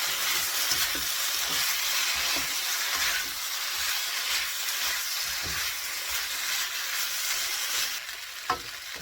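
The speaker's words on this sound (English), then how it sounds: "You want to get a good sear on all sides of your meat." Chunks of meat for stew sear in a hot pan, giving a steady close sizzle with crackling pops and occasional scraping or stirring, and no talking.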